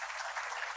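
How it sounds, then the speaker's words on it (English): Audience applause at a university event in Chandigarh: a brief burst of steady, fairly faint clapping from a crowd, heard with no talk over it. "A big round of applause, please."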